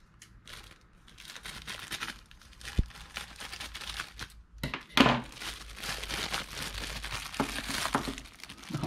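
Scissors or a blade cut open a plastic bag holding a seashell, giving close crinkling and tearing rustles with a couple of sharp snips, steady and moderately loud with no talking.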